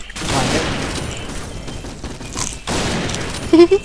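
Rapid bursts of gunfire from the shooting game Point Blank fill the clip, a loud dense rattle broken by a short gap, with a voice speaking briefly near the end.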